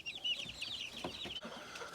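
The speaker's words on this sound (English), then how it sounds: "That looks like a rooster." Chickens and a rooster at a backyard coop give a run of soft, overlapping clucks and higher chirping calls, moderately close and fairly quiet.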